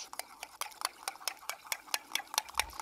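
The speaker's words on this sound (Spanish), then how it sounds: "Ahí mayonesa, removemos" A utensil stirs a sauce of mayonnaise, soy sauce, pickles and capers in a bowl, making a quick, even series of close, sharp scraping clicks.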